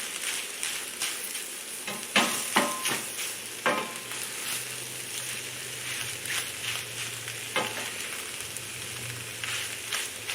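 Eggs frying in a pan alongside cooked sausage, peppers and onions give a soft, steady sizzle, with a cluster of utensil taps and scrapes as they are flipped, and then a low hum beneath.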